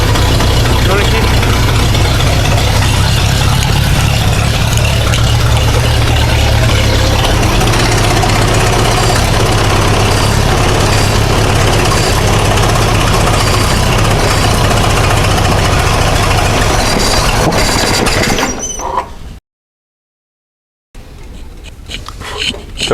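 A Massey Ferguson tractor engine idles loud and close with a steady, rough low rumble for most of the stretch, broken by a brief moment of silence near the end before it picks back up.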